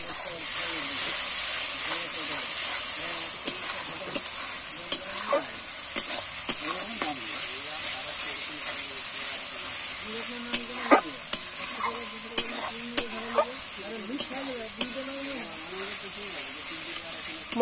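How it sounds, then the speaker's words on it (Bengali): A spice masala for about a kilogram of meat stirs and fries in a pan, giving a steady sizzle and hiss with intermittent scraping clinks of the spoon, while a voice talks now and then. "মশলাটা অনেকক্ষণ থেকে কষলাম,"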